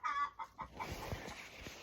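Chickens on an off-grid homestead clucking in a quick run of soft calls, close by and fairly quiet, with a few scattered pecks and scuffles underneath.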